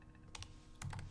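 Keystrokes on a computer keyboard while entering text into a website builder, a few quick taps in two short bursts, close and fairly quiet with no voices.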